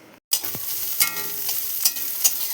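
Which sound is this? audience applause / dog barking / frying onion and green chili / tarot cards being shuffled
frying onion and green chili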